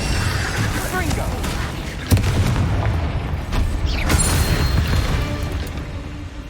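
Hogwarts Legacy combat as the Confringo fire spell fires during a spider fight, a sharp booming blast amid continuous loud rumbling bursts and mechanical clatter, with a voice speaking over it.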